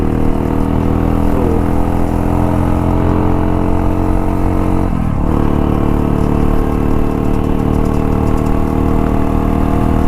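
A modified race-spec Hero Impulse motorcycle fitted with a Karizma engine idles steadily and loudly up close, a deep continuous rumble with a brief blip of revving midway.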